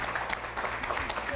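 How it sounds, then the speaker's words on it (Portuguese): Studio audience applauding on a Portuguese daytime TV show, a brief steady burst of clapping with a faint voice underneath. "se não se importam, aplaudem o Manuel Campos."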